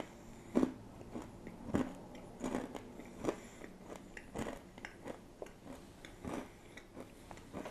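Crunchy Biena habanero chickpeas being bitten and chewed off a spoon, a series of close, sharp crunches spaced about a second apart over a quiet background, with no talking.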